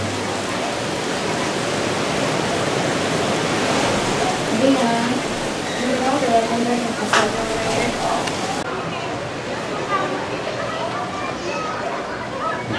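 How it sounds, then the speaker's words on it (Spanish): Steady rain and rolling ocean surf at Manzanillo, Colima, form a dense, continuous wash of noise throughout. "se ve padrísimo la lluvia, las olas del mar, el ruido"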